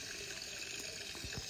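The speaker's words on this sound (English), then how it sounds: "Okay, fill this thing up with water." Water pours steadily into a container in the mobile game Hello Neighbor Hide & Seek, a continuous faint splashing rush with no talk over it.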